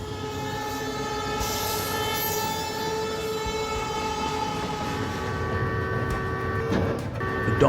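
A high-speed train rushes along the tracks nearby in a steady, loud roar with rail rumble. A tonal horn-like whine sits over it, and the noise swells near the end.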